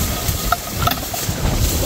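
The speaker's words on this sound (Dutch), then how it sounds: "Even die kip even lekker gaar bakken." Chicken frying in a pan at an outdoor camp cook-up on open water, a loud continuous sizzle with wind noise over the microphone and no talk.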